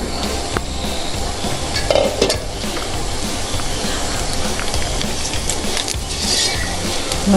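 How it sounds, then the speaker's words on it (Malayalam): Beef fry being stirred in a pan over low flame gives a steady, close broadband sizzle with occasional scraping clinks of the spoon, running throughout without speech. "ബീഫ് ഏകദേശം ഫ്രൈ ആയി വന്നിട്ടുണ്ട്."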